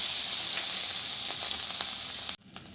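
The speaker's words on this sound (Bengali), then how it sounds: "আদাটা হালকা করে ভেজে নিয়েছি" Ginger paste sizzles loudly in hot oil in a pan alongside green chilli and nigella seeds, a dense bright crackling hiss that stops abruptly near the end.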